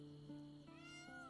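A cat meows in the video game Baldur's Gate 3, three short tonal calls in quick succession over a steady humming background, close and clear with no talk.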